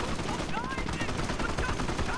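Gunfire from the Company of Heroes war strategy game, a flurry of sharp shots and rattling bursts through a busy battle soundscape, with voices heard in the mix.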